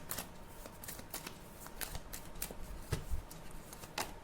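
Tarot cards shuffled and drawn close up, soft papery riffles and flicks in quick, uneven bursts, quiet and unaccompanied by speech.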